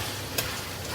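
Beef slices fry in a pan with a dense, steady sizzle and crackle, close and loud, with a couple of brief stirring scrapes and no voices.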